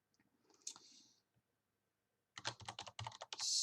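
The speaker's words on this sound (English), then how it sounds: "So let's type out an expression." Quick bursts of typing on a computer keyboard while entering a math expression, close and clear: a faint click or two early on, then a dense run of keystrokes after a pause.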